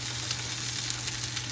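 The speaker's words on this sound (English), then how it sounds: "You can hear it sizzling." Gnocchi, sausage and broccoli sizzle on a sheet pan in the oven, a constant close crackling hiss with a low hum beneath and no talking.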